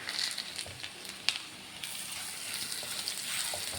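Vegetables sizzle steadily in ghee in a pan as carrots go in, a soft continuous hiss with a couple of brief clatters, close and without talk, while onion and green chili cook for a cracked-wheat upma.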